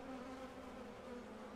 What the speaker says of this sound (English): These bees are really quite nice.